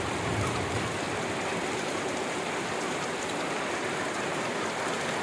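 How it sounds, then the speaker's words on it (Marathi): Heavy first-of-season June rain pours down on a village in Maharashtra, a dense, steady hiss of drops drumming on surfaces that stays loud and constant throughout, with no voices. "एकदम जोराचा पाऊस आहे."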